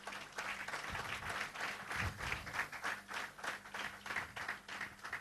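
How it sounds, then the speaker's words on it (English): Faint, steady audience clapping in a room, rhythmic and somewhat distant, continuing throughout with no talk over it. "You both, I think, deserve this applause"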